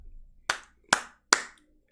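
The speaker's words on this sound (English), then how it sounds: "You need to clap when doing that?" Three sharp, close hand claps spaced roughly evenly, each crisp and separate, with near silence between them.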